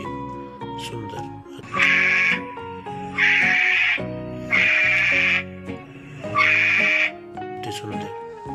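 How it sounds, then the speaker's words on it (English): Four loud sheep bleats, a few seconds apart, alternate with a simple electronic melody. "This is beautiful sheep, Sundar."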